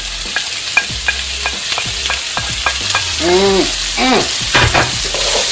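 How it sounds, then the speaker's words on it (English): Sausage and red and yellow peppers frying over high heat are stirred in a pan, a loud sizzle broken by repeated scraping and clacking strokes of the utensil. "Mix all those in there"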